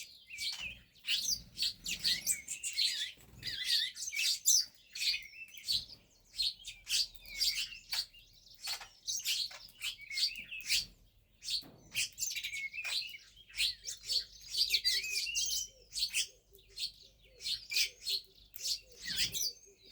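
Sparrows chirping in a busy, continuous flurry of short high tweets, several birds together, fairly close but soft overall.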